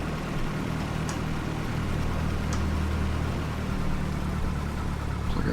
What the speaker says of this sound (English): Plug our headset in so we don't have all this engine noise.